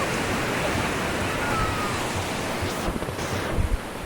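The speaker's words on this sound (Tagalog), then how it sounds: "Lakas ng alon." Strong ocean waves at Baler, Aurora, a loud continuous roar of surf mixed with wind buffeting the microphone, with a few heavier gusts or crashes near the end.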